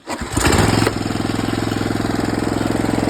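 A new Maruyama sprayer engine catches after a short pull and settles into a steady, loud, rapid idle putter close by, with no voices.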